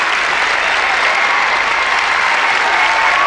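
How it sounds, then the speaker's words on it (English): An arena crowd at the 1994 Lillehammer Olympic figure skating pairs short program roars and claps steadily for the champion pair, loud, thick and unbroken applause. "Champions getting a mighty roar of applause."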